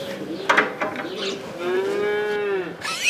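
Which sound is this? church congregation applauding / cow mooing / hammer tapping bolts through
cow mooing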